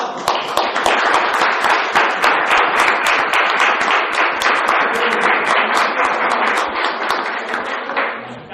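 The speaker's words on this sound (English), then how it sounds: "Give him a round of applause." An audience at a speaking club meeting gives a round of applause for a speaker, with close, crisp, steady clapping lasting about eight seconds before tapering off.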